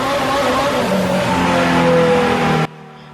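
A turbocharged, forged Toyota 5EFE engine screams at high revs on a dyno, a loud sustained roar with strong harmonic drone that cuts off abruptly near the end, leaving a quiet low hum.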